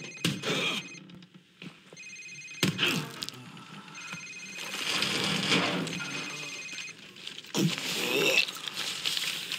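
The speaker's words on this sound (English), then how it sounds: "Sir, it's his cell phone." A cell phone rings in Call of Duty Modern Warfare Remastered, repeated electronic ring bursts rising out of tense scene noise, with people speaking around them.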